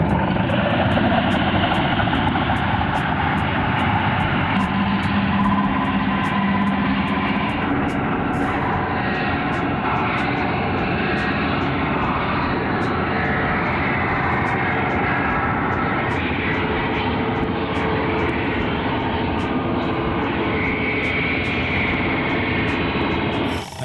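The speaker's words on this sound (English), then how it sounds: "Now I need to grind off the corners around this sheet metal and peel it off of each side" Angle grinder cutting the corners off sheet metal wrapped around a Damascus billet, a loud continuous roar with harsh metallic hiss and scattered sharp ticks throughout, steady for over twenty seconds, close with no talking.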